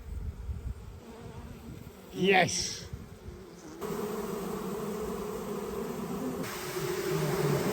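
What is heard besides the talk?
honeybees coming out of an old chimney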